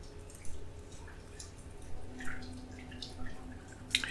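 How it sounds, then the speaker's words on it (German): Water dripping in Silent Hill Downpour, scattered faint drops over a low, steady ambient hum with a sharper drip near the end, no voices. "Tropfendes Wasser."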